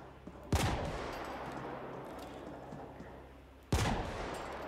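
Two sharp, loud gunshots with echoing tails in the video game The Ascent, about three seconds apart, over a steady low background hum.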